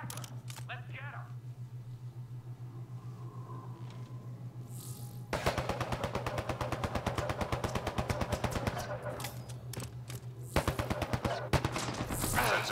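Rapid automatic gunfire bursts from the video game Mass Effect Andromeda's online multiplayer, a long sustained volley followed by shorter bursts. Brief voices and game sounds come before the shooting.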